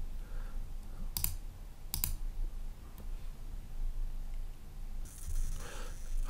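Computer keyboard being typed on and clicked while setting up a Pulsar tenant in Astra Streaming: a few sharp, isolated clicks near the start, then a denser patch of keystrokes toward the end, fairly faint against steady low background hum.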